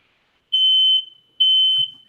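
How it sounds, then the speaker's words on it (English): A smoke or fire alarm sounds two loud, piercing electronic beeps, each about half a second long with a short gap between, close by and with no other sound around them. "alarm going off"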